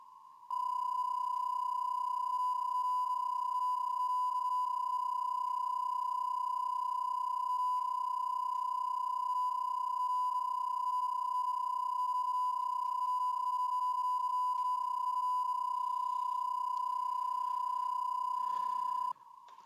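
An Elecraft K4 radio transmits a PSK CQ call as a single steady, pure tone that holds evenly for about eighteen seconds before cutting off, with faint clicks at the end.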